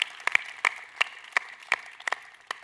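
Scattered applause at the Commerce Sneaks session of the Magento Imagine 2019 conference: about a dozen distinct, sharp claps from a few hands, spaced irregularly and fairly close, with quiet gaps between them.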